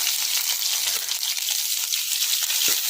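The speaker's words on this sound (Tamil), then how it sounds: "இப்போ சின்ன வெங்காயம் சேர்த்திக்கலாங்க" Small onions sizzle loudly in hot oil in a pan for tomato rasam, a steady bright crackling hiss with faint stirring knocks, no voices.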